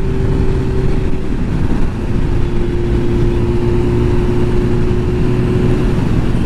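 A 2005 Suzuki GSX-R1000 K5 motorcycle runs loud and steady while being ridden, its engine holding an even droning pitch with wind rush, and no voices.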